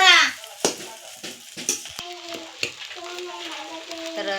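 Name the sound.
sabudana (tapioca pearls) sautéing in a pan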